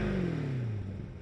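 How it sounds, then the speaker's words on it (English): Exhaust of a 2020 Chevrolet Corvette C8 Stingray with the performance exhaust set to touring mode, a loud, steady drone that falls slowly in pitch as the engine settles, heard alone. "Here's how the exhaust sounds in the various drive modes."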